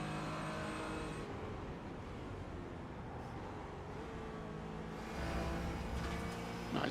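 Porsche race car engines in a racing game at Silverstone, a steady droning roar with rising and falling revs that gets louder near the end, with no talking.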